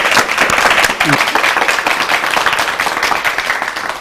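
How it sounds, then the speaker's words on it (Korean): A studio audience at a Christian TV lecture on the Bible by medical doctor Lee Woo-seung breaks into warm, vigorous applause, dense clapping starting strong and slowly tapering. "따뜻하게 힘차게 박수로 맞이할게요"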